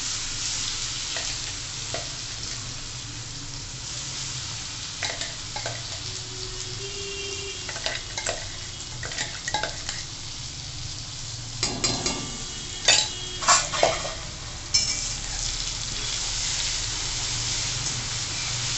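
A coarse paste of peanuts, garlic, green chili and coriander fries with cumin in a pan for a pumpkin dish. It gives a loud, steady sizzle broken by repeated scraping and clattering stirs.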